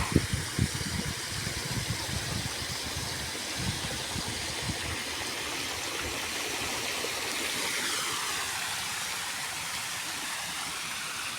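Irrigation water gushes under high pressure from a pipe in a cumin field, a loud, continuous broadband rush, with a few low thumps near the start and the flow shifting slightly later on.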